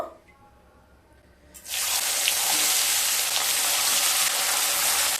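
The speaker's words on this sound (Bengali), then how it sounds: "এবার মাছগুলোকে ভেজে নেব।" Parshe fish go into hot oil in a pan. After a quiet start, a sudden loud, dense sizzle bursts up and holds steady, close to the microphone.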